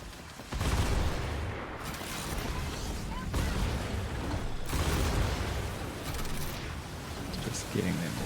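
Torpedo hits and explosions in the naval video game Skull and Bones, as a dense roar of booming blasts and rumbling impacts that swells in several waves while a voice talks underneath.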